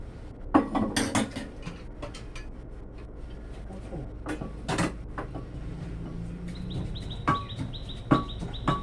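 Chilies and mackerel are pounded coarsely in a mortar, with irregular, sharp knocking strikes spaced a second or more apart, while birds chirp in the background.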